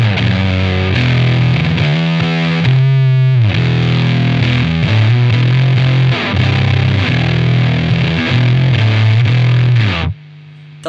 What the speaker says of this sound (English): Now you boost that bass up, it gets real fuzzy